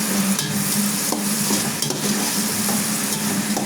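Tomatoes being stirred in a hot pan for a fish head gravy, a loud continuous sizzle and frying crackle with scraping spoon strokes against the pan, close up and without speech.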